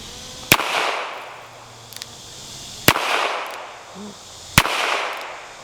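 Three sharp, loud gunshots ring out at an outdoor shooting range, spaced roughly two seconds apart, each with a crack and brief echoing decay, with a faint metallic ping of a hit between shots.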